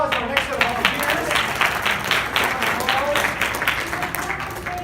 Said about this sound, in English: Round of applause for our next set of volunteers.